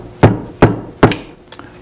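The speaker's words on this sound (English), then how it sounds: "we use a part of the tool set we call the head joint cork hammer" A flute head joint cork hammer knocks a cork out of a flute head joint in three loud, sharp taps about 0.4 seconds apart, followed by fainter knocks, close and with no talk.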